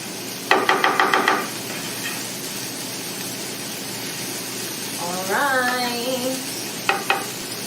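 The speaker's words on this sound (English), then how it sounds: "When you saute your veggies, it starts to get like a really nice caramel note." Vegetables being sautéed in a pan for bean burgers give a steady sizzle, with a quick run of knocking spatula taps near the start and a couple more at the end, as a voice talks briefly in the middle.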